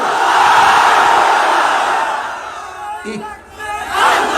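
A large crowd roars a loud takbir chant of Allahu Akbar in unison, the massed voices swelling strongly, then fading and rising again toward the end.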